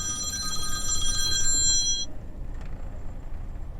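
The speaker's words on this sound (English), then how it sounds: "Oh, Nick's ringing" A mobile phone rings loudly and close by in a vehicle with a truck driver, its bright electronic ringtone tones repeating for about two seconds before cutting off, leaving low cabin rumble behind.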